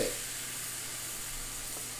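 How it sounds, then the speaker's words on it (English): Thinly sliced flank steak sizzles in a hot pot, a steady close frying hiss that holds evenly from start to finish with no talking over it. "Give that a little sizzle, sizzle."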